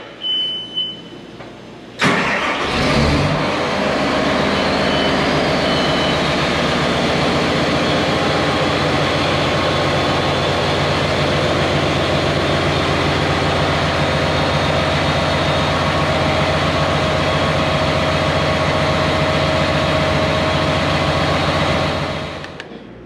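A hydraulic-drive engine cooling fan on heavy equipment spins up sharply after a quiet start, then holds a loud, steady roaring whir with an engine drone for about twenty seconds before easing off.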